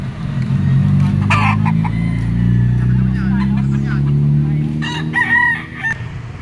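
At a chicken auction market in Lipa, a rooster crows close and loud amid a steady rumble of engine noise, with people talking over it.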